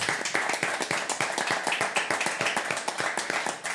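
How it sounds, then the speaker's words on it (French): A small studio audience claps for two quiz show contestants, with distinct, rhythmic individual hand claps close by, loud and regular throughout. "nos deux candidats du jour et que je vous demande d'applaudir"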